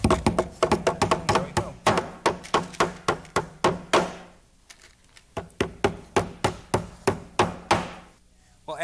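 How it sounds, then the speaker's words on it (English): Brads, 3/4 inch long, are hammered through 1/4-inch plywood into 3/4-inch pine for an easel. The sharp, close hammer blows come in quick rapid runs, with a short pause between the bursts. "these are 3/4-inch brads going into 1/4-inch of plywood and 3/4 inches of pine, so they're the ideal length"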